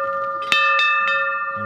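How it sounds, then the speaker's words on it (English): A metal temple bell in the snowy hills of Himachal Pradesh, India, is struck several times in quick succession, each hit ringing out with a sustained, clear metallic tone that hangs in the air. "is it good luck if you hit the bell or something?"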